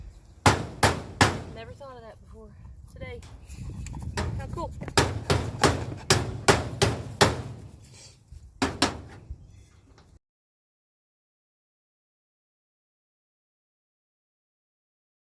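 A hammer strikes sharply again and again in uneven bursts, loud and close, while a person talks between blows; then silence.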